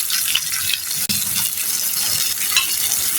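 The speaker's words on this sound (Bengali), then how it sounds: "পেঁয়াজগুলি আমি আদা ভাজা করে নিব" Onions and ginger fry in a pan with a soft continuous sizzle, close by, with a few light utensil clinks and scrapes.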